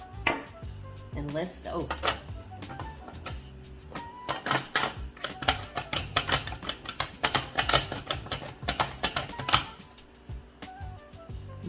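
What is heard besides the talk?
knife cutting cucumbers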